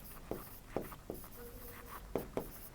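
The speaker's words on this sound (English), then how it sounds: "So, I am going to write it," Chalk or marker writing on a board during an engineering mathematics lecture, a series of short scratchy strokes at irregular intervals, close and moderately loud, with no talking.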